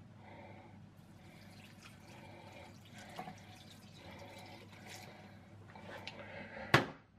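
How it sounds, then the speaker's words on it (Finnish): A litre of water is poured into a pot for sausage borscht soup, a continuous splashing, gurgling flow at close range that builds and ends with a sharp clunk. "Laitan nyt tässä vaiheessa litran vettä sinne."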